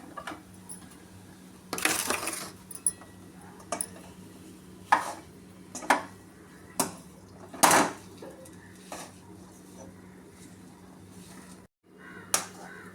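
Dates and finely chopped figs are stirred in a pan, with a spatula giving irregular sharp clinks and scrapes against the metal over a quiet background.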